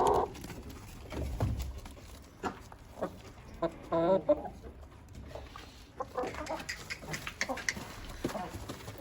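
A splash-coloured Brahma hen clucks intermittently in a coop setting, soft close clucks and rustling with a person talking nearby.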